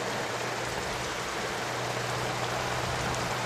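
Steady, even rain hiss fills the whole stretch, a dense wash of falling water with a faint low hum beneath it and no voices.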